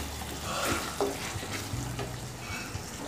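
Chilli soya chunks are stirred with spices in a pan, a quiet steady sizzle punctuated by a few spoon scrapes and clinks, close and low in level, no voices.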